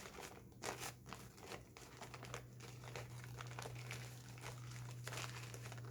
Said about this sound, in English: fold over one way and fold it the other way, kind of like a fan